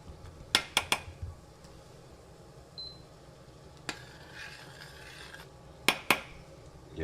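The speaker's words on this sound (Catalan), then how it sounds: "Quan estigui bullint, remenem l'aigua" Metal utensil scraping and clinking against a pot of boiling salted water with vinegar while stirring, heard as sharp close clanks at the start and end with softer rubbing and faint bubbling between.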